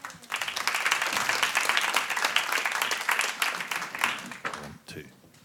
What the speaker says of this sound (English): Let's have an applause for Jean-Pierre.